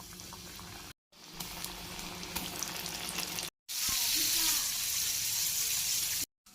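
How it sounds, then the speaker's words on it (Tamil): Chicken, done in KFC style, fries in hot oil with a steady bubbling sizzle, close and fairly loud, growing brighter and more intense in the later part, broken by short silent cuts. "எண்ணெய் ஹீட் ஆயிடுச்சு, பொரிச்சு எடுக்க போகிறோம்"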